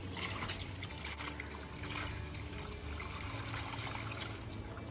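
Water poured over freshly harvested red and white vegetable stalks from a rooftop garden to soak them, a continuous close trickle and splash that stays fairly even throughout.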